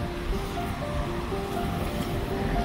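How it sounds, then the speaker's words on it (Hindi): Strong wind gusting beside the water on an open waterfront with benches, blended with steady surf and a rough rushing roar throughout, close and fairly loud with no talk. "बहुत हवा चल रही है गाइस यहाँ पे"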